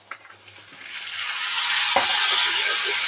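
Onions sauté in a pan with lump asafoetida, the sizzle swelling from quiet to a steady hiss, broken by a single sharp clank of a utensil against the pan.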